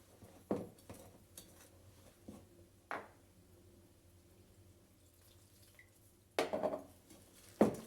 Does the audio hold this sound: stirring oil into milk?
yes